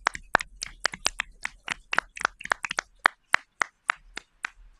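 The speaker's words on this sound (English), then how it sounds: "Give these two folks a round of applause for." Sparse applause from a small forum audience, a few people clapping in sharp, distinct individual claps rather than a dense roar, fairly close and fading toward the end.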